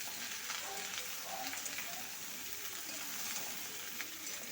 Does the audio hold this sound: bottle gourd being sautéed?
yes